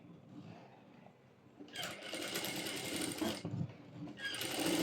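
A sewing machine stitches along the edge of a sleeve lining in two short whirring bursts at low overall volume, with a quiet pause between them.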